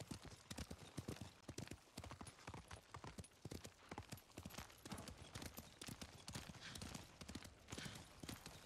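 Rapid, continuous clip-clop of horse hooves at a steady trot in the video game Ghost of Tsushima, close and fairly loud, with no talking.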